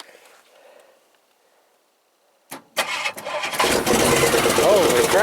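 AMC 401 V8 in a junker car cranks on a starter button with sharp clicks, then fires and roars into a loud, rough idle.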